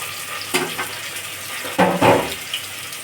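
Onion, ginger and garlic paste with green chilies being fried and stirred in a pan, a close hissing sizzle with scraping stir bursts, loudest in a couple of surges toward the middle, with no talking.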